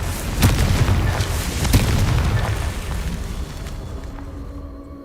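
Confringo fire spell going off in Hogwarts Legacy: a loud, booming blast with a sharp burst at the start and a rumbling tail that slowly fades, alone with no voices.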